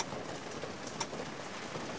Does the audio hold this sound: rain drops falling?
yes